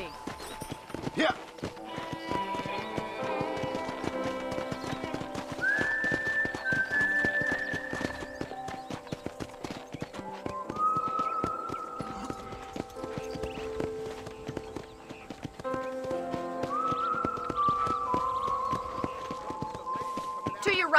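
A horse's hooves clip-clop at a steady walking pace in the Red Dead Redemption video game on Xbox One X, running under people talking and tonal background sounds for the whole stretch.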